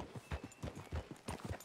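Horse hooves clip-clop at a walking pace in a Western video game, with regular, close, moderately loud beats.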